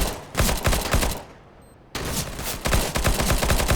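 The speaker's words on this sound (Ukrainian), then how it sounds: "Очередями стріляє в тунельчик." Rapid-fire bursts of rifle shots from a CS:GO match, loud and close, in two sustained strings of shots separated by a brief pause.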